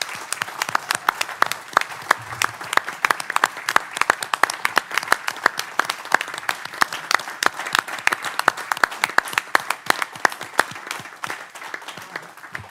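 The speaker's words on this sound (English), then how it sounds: "everyone, please give him a big round of applause" An audience at a council meeting breaks into a big round of applause, dense, steady clapping from many hands that carries on without a break, with no talking over it.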